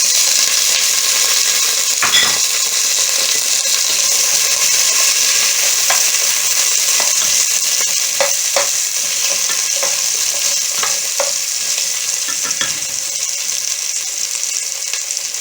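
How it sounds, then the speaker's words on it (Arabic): Potatoes fry in a pot with onion and garlic for a lentil soup, giving a loud, steady sizzle with occasional stirring scrapes and clinks throughout. "هننزل بقى بالبطاطس."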